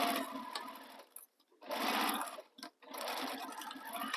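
A sewing machine stitches the lining seam of a sling bag in three steady runs with short pauses between them, close and clear, with no talking.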